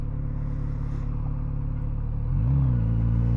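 A Kawasaki Z900RS engine pulling in first gear on a test ride, a steady low drone that rises in pitch and loudness as it accelerates, heard from the rider's position.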